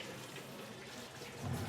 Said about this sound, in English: Gotta give it a good rinse here.